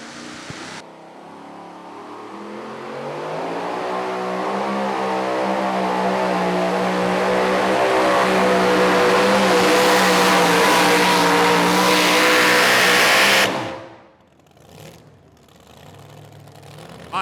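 A super modified two-wheel-drive pulling truck roars at a pro pulling event in Goshen, Indiana, its engine climbing in pitch and loudness for about thirteen seconds before cutting off abruptly, leaving a quieter, distant rumble.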